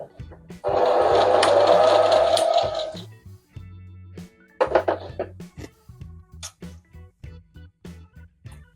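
A sewing machine runs a straight stitch on a t-shirt in one sustained, fairly close burst lasting about two seconds, then gives a short second run, followed by scattered clicks and handling noises.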